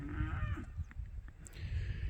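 Nguni cattle, an indigenous African breed, in a herd on a farm, lowing with low moos in a rough, noisy outdoor setting, with no talk.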